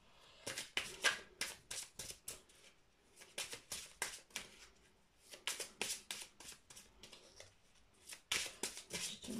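Oracle cards being shuffled by hand in a run of quick, crisp riffling bursts with short pauses between, close and fairly quiet, with no voices.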